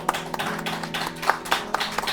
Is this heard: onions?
no